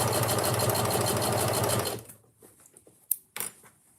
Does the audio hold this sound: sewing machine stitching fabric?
yes